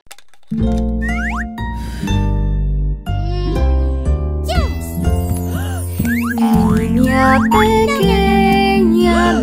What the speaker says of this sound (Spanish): ¡Miau, miau, miau, miau!